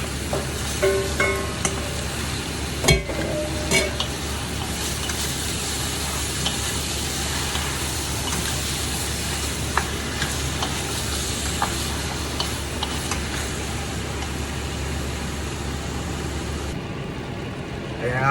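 Pork hits smoking-hot cooking oil in a pan and sizzles in a steady crackling hiss, with occasional stirring scrapes and clatters, while a person talks over the frying.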